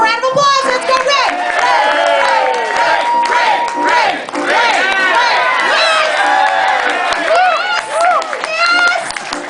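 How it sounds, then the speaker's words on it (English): A lively crowd cheers and whoops for Ray at a charity event, with excited children's voices and shouting dominating over scattered clapping throughout. "Let's give him a round of applause"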